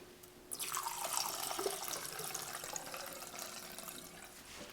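Mineral spirits poured into the fork leg of a Ducati 900SS motorcycle, a steady splashing liquid pour lasting several seconds, close and fairly quiet.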